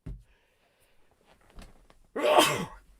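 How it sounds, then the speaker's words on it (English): A single loud, forceful sneeze bursts out after a few seconds of quiet breathing and faint rustling. "Oh, dear. I'm going to sneeze."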